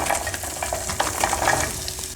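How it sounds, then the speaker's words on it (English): About one medium onion frying in oil for chili, a continuous close crackle and sizzle with faint stirring clatter throughout, no voices. "Let's start out by frying about 1 medium onion."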